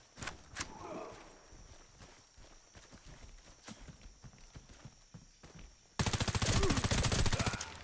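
Sharp gunshots from the video game Warface crack sporadically over a low background, then a rapid sustained burst of automatic fire erupts loudly near the end.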